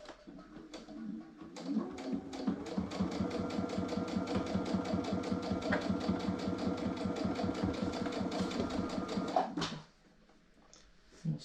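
A sewing machine stitches fabric for a turkey table cover, running at a steady rapid mechanical clatter for about nine seconds before stopping abruptly, close and clear with quiet room tone after.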